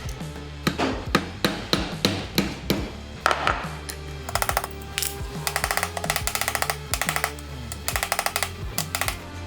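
A hammer drives tight-fitting pins into the handle of a 23-inch mosaic Damascus Bowie knife. Sharp metallic taps come close and loud, first in spaced strikes, then in quick rhythmic bursts of rapid blows, with no talking.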